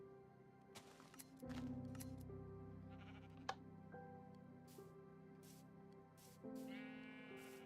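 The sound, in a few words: sheep bleating in Minecraft video game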